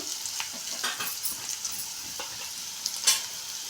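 Okra frying in a pan, a steady sizzle with occasional stirring scrapes and a few louder spatters, close and alone without talk.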